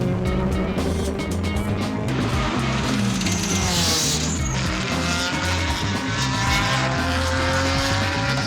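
Race cars at an American Le Mans event roar past on the circuit, a loud, continuous engine blare with shifting pitch as cars speed by, brief tire noise mixed in, no talk.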